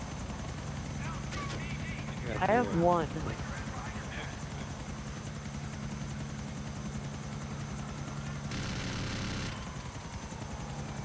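A helicopter in the video game GTA 4 drones with a steady rotor hum throughout, while players chat briefly over it.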